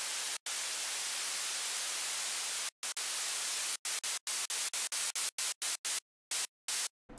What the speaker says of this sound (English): just to add a bit of air, a bit of sparkle to the white noise.